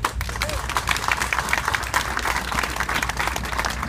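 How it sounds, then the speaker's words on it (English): An audience at a welcome ceremony for the Nova Star cruise ferry in Nova Scotia applauds, a dense, continuous patter of many hands clapping throughout with some crowd noise. "We all deserve them a great round of applause."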